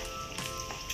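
Cubes of pork sizzle and fry steadily in a hot pan, making an even, close hiss with faint crackles and a couple of brief stirring swells, with no voices.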